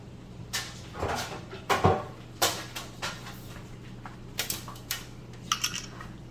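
Metal clanks and knocks as a pan is pulled out and handled, a few scattered clatters close by over a low hum.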